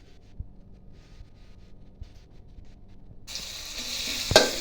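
Basil, chili, garlic and meatballs are stir-fried in a hot pan. After a quiet stretch with a few soft knocks, a loud, steady sizzle bursts in and continues, with a sharp clatter near the end.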